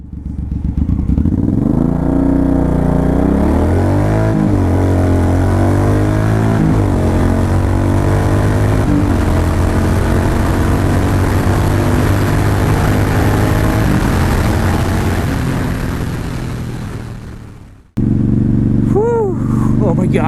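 Suzuki Boulevard M109R cruiser motorcycle accelerating hard from a standstill to 60 mph, a loud close engine roar climbing through several gear changes with brief dips between shifts, then a sudden cut and wind-buffeted cruising.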